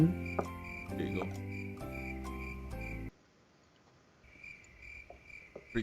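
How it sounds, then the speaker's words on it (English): Cricket chirps played as a sound effect, a regular pulsing trill that is loud at first, cuts off abruptly, then returns faintly with brief voice sounds underneath. "More crickets."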